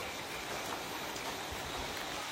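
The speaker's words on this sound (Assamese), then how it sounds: "বৰষুণ দি আছে কণ্টিনিউ বৰষুণ দি আছে" Rain pours down continuously on a cold night, an even, unbroken hiss of water with no voices, fairly soft and steady throughout.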